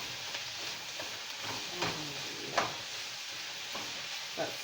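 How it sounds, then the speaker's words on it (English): Yellow wax beans being stirred with sprinkled seasoning in a pot, a soft continuous sizzle with a few scraping clicks from the spoon, moderately close and fairly quiet, with no talking. "we're going to sprinkle that right on top of the yellow wax beans. And we're going to just stir that right on in"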